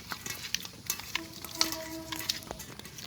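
Koi fish being rubbed by hand with turmeric, salt and dry chili powder: close, soft wet squelches and small clicks in an irregular rhythm, with no talking.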